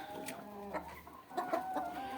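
Chickens on a farm cluck softly in short, scattered calls amid faint background noise on a rainy day, part of a flock of about two hundred being fed.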